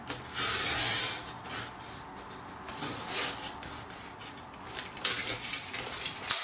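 A handsaw cuts through a piece of wood with steady, close rasping strokes that run continuously, with a few sharper scrapes near the end.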